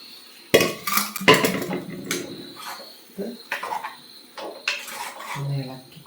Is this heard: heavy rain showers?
no